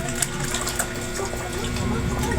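Hands being washed with soap under running water from a tap, a steady splashing gush with a voice talking over it.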